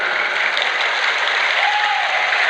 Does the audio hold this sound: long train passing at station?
no